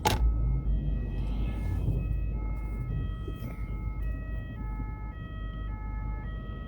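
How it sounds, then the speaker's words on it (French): An ambulance siren wails in a repeating two-tone pattern, alternating high and low pitches steadily over a rumbling traffic background, heard at moderate distance. "Le fer rouge, c'est les ambulances."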